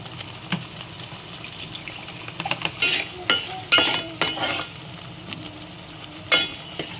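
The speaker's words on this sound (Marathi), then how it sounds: "छान थोडं वाटण भाजून घ्यायचं आहे" Spice paste for a Malvani-style mackerel curry roasting in a pan, a soft steady sizzle with scraping stirs and louder clattering scrapes of the spoon against the pan.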